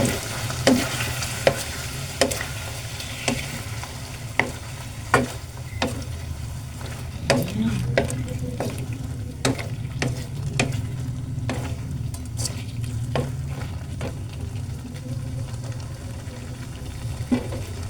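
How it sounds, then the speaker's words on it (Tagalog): Chicken afritada with potatoes, carrots and tomato sauce is stirred in a pan over a low sizzling bubble, with regular sharp scraping clicks of the spoon against the pan repeating every second or so, close and clear. "Lagay na po natin ang tomato sauce. Haluin natin."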